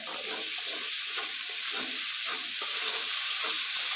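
Mixed vegetables fry in a pan with a paste of cumin, ginger, coriander, chilli, salt and turmeric, a close, steady sizzle with soft stirring scrapes throughout.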